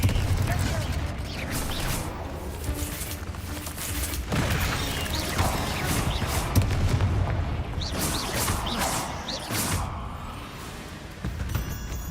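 Confringo blasting curse explosions in Hogwarts Legacy, a series of heavy booms and crackling blasts mixed with gameplay clatter, with a voice speaking over parts of the sequence.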